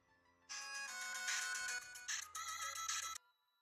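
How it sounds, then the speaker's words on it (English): An incoming phone call ringtone plays loud and close, a bright electronic melody starting after a short pause and running about two and a half seconds before cutting off, with no talking. "Sorry about that. I got a phone call"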